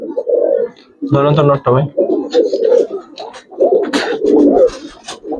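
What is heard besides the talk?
Giribaz pigeons cooing on a pigeon farm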